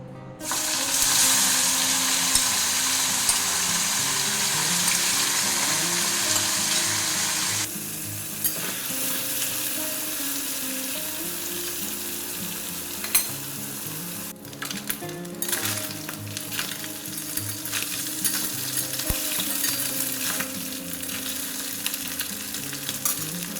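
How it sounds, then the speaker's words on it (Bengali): Small chanda fish frying in mustard oil in a wok, a steady loud sizzle and crackle running throughout with occasional stirring clatter, a brighter hiss in the first few seconds settling into a duller sputter, with faint background music. "এবার এই তেলের মধ্যে মাছগুলো একটু ভেজে নেব"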